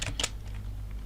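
A few quick keystrokes on a computer keyboard, with soft close clicks at the start and end of a brief moment and no voice.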